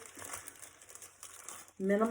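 A small plastic baggie crinkles softly in the hands during a scrapbooking craft session, light scattered rustles that are fairly faint, and a voice comes in near the end.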